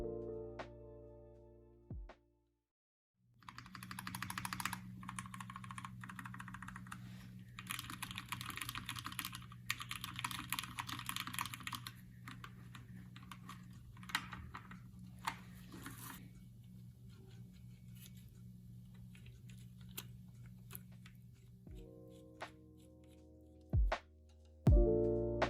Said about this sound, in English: we get to listen to a typing test